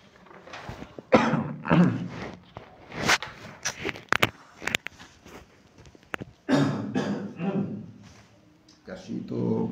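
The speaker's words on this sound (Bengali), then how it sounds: "কাশি তো ভালোই জ্বালাচ্ছে।" A person coughs in a lecture setting, with several loud bursts of coughing and throat clearing mixed among stretches of speech.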